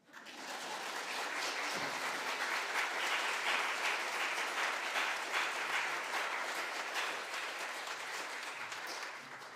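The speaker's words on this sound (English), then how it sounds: "I think we should applause." Sustained applause from a church congregation during a Sunday service, a dense, steady wash of many hands clapping that holds for the whole stretch and eases off slightly at the end.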